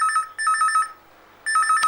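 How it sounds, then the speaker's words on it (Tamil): A telephone bell rings in two clear bursts of rapid trilling, loud and close, with a silent gap between them. "ஃபோன் எடு."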